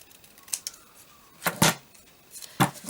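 Scissors snip through paper in a few short, crisp cuts, spaced irregularly with quiet pauses between, close by.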